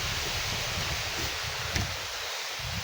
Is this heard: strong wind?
yes